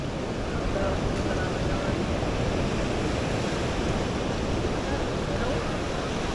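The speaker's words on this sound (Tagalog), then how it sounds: "Parang malaking alon." Steady roar of surf and wind with constant broadband wash, a heavy wave rolling through amid continuous rushing water noise.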